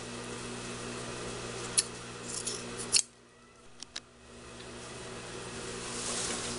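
Scissors snip through fabric while a cloth bag is made: a few sharp, close clicks and cuts spaced over several seconds against a quiet background, with no speech.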